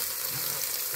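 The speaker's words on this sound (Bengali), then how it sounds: "এখানে কাঁচা রসুন আর আর কাঁচামরিচ দিলাম, রসুন আর কাঁচামরিচ। এটাকে আমি একটু ফ্রাই হতে দিব।" Raw garlic and green chilies fry in hot olive oil in a pan, giving a continuous, even, close sizzling hiss with no break across the whole moment.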